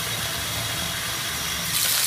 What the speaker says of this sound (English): Fill up the bucket.